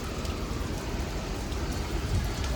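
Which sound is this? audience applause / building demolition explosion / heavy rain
heavy rain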